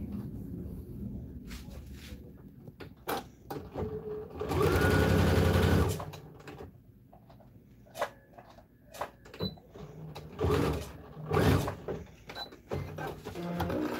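Sewing machine stitching a fabric bowl cozy in a home sewing room, with bursts of rapid mechanical whirring. The longest run lasts about a second and a half, and shorter bursts follow with clicks and handling noises between them.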